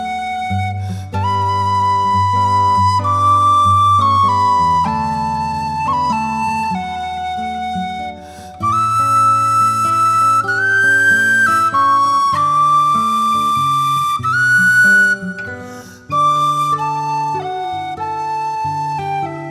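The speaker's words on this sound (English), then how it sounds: "today I am going to teach a lovely, simple, well-known Christmas carol on the whistle" Tin whistle playing the Christmas carol Silent Night, clear sustained breathy notes in a slow, lilting melody with short breaths between phrases, played alone and close.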